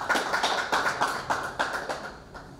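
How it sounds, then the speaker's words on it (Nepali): An audience claps in a hall at a party press conference, bursts of applause quick and fairly steady for a couple of seconds before thinning out. "हलमा भएको साथीहरू ताली बजाइदिनु होला।"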